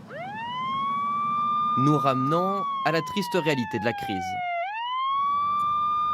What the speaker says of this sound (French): Un instant de liberté que seul le bruit des ambulances interrompt